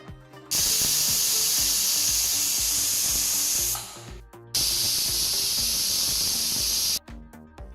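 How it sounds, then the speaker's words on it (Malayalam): A pressure cooker on a medium flame lets off two loud, sustained bursts of hissing steam from its whistle, each lasting a few seconds with a short pause between, close and alone. "മീഡിയം ഫ്ലെയിമിൽ രണ്ട് വിസിൽ വരുത്താം"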